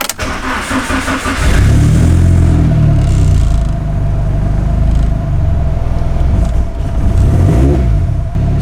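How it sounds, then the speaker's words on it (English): An SR-Z32 car's heavily modified engine cranks and catches, then settles into a loud, steady rumbling idle close by, with a few swells of revving. "Starting a car for the first time after a big modification."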